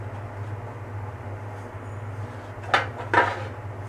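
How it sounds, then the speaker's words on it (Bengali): A metal lid lifted off a cooking pot of resting broiler chicken curry, giving two brief clanks close by over a steady low background hum, with no talking. "এখন আমি ঢাকনাটি তুলে রান্নাটি শুরু করব।"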